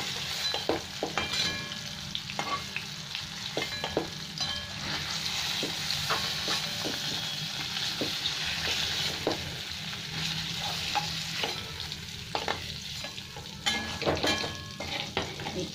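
Paneer frying in hot oil crackles and sizzles loudly and continuously, with frequent spatula stirring clicks close by and no talking.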